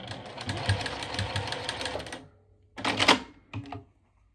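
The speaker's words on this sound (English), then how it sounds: "Then you can put your presser foot right back down and finish sewing." A sewing machine stitches a small tote bag near a zipper, running fast and rattling for about two seconds, then stopping and firing two shorter bursts.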